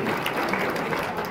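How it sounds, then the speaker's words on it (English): Audience clapping at a live earthquake science demonstration, a dense steady round of applause filling the whole moment, close and fairly loud with no voices over it. "Give a round of applause."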